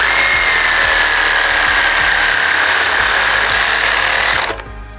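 A HiKOKI reciprocating saw buzzes loudly and steadily as it cuts, with a rapid rhythmic chatter, then stops abruptly near the end.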